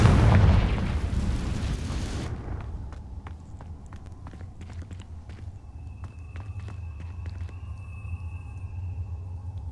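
A loud Confringo blasting-spell explosion in Hogwarts Legacy opens with a dense, roaring burst lasting about two seconds, then cuts to quieter rumbling and scattered crackles, clicks and footsteps.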